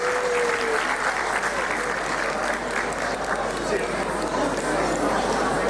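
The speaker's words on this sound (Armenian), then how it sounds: "Շնորհակալություն բարձր ծափարենք մեր սիրելի զույգերին" Sustained applause from wedding guests for the couples, a dense, even clapping wash that holds steady throughout, with voices faintly mixed in.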